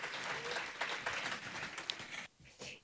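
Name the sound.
audience applause welcoming speakers to stage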